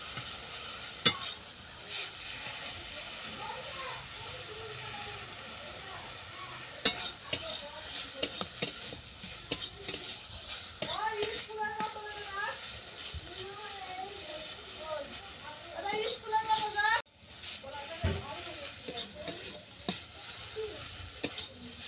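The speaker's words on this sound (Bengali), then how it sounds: "ফুলগুলোকে ভালো করে চেপে চেপে ভেজে নিতে হবে যেন ভেতরে রস না থাকে" Moringa flowers are pressed and fried in a pan, with repeated scraping and pressing strokes over a low sizzle and hiss, and a voice can be heard talking at times.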